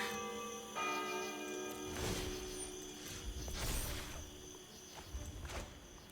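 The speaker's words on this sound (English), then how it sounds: "Ding dong, it's the clock." A chiming clock bell sounds inside the digital card game Magic: The Gathering Arena. A sustained tonal ring at the start is followed by whooshing swells and soft mechanical clicks, with no talking.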